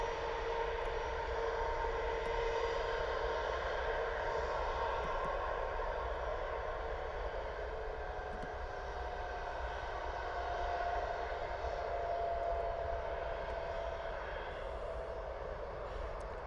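A TUI airliner departing Bristol airport produces a distant, steady engine drone with faint whining tones, a low, even roar holding for the whole stretch with no voices.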